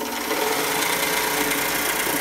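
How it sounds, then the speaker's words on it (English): A Craftsman drill press running: a steady, continuous mechanical whir with a bright, hissing high end, running evenly at close range with no pauses or talk. "Craftsman drill press."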